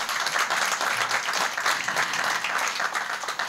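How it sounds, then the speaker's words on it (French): Applause from the audience at a pan-African business conference, a dense, steady burst of many hands clapping, fairly loud and sustained throughout. "Je pense qu'il mérite un applaudissement."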